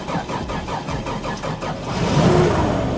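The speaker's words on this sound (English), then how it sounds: "let us start up the FJ40" A Toyota FJ40 Land Cruiser engine cranks over with a rhythmic starter churn, then catches and rises into a louder, steady running rumble, close by with no talk.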